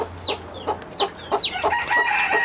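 Chicks in a coop chirping loudly, a rapid run of high, sharp peeps, several birds calling in quick succession close by.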